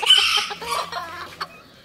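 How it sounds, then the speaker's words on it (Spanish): A young pinto limonado rooster clucks up close in a breeding yard, giving a quick run of sharp, chattering clucks that fade into a few softer calls. "Este es un pollito pinto de limonado, Alex."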